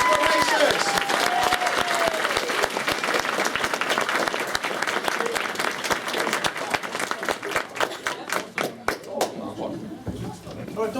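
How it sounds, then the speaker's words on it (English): Audience at a fan convention's closing ceremony applauds loudly and steadily, a dense wash of clapping that thins toward the end, with a voice briefly audible early on. "Give it a big round of applause for our Super Racers."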